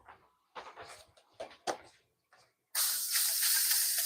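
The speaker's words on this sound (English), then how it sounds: "you hear that sizzle?" Scattered handling clatter and short noises, then a sudden loud, steady hiss of food frying in a hot pan before scrambling, continuing to the end.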